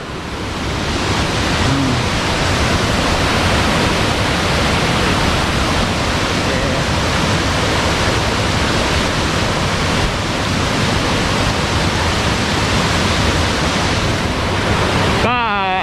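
Khlong Lan waterfall in Kamphaeng Phet pours as a loud, steady, full-bodied roar of rushing water close by, unbroken for the whole stretch.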